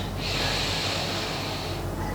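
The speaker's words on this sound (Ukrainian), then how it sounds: "Вдих, видих, добре, ще раз вдих. видих." A single loud, breathy exhale of about a second and a half, heard close up during a morning strength and mobility exercise routine, with no talking over it.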